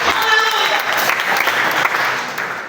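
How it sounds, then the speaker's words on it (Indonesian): A church congregation bursts into sustained applause during a morning worship service, a dense, loud wash of clapping that holds steady from start to finish, with a few voices mixed in beneath it. "Berikan tepuk tangan sekali lagi."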